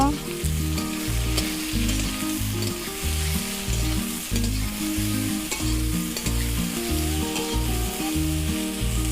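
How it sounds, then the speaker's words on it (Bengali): Sliced ridge gourd fries in hot oil for a Bengali rohu fish curry, a steady close sizzle broken by repeated rhythmic scraping and stirring strokes of a spatula in the pan throughout. "ঝিঙেগুলো একটু ভেজে ভেজে নেব"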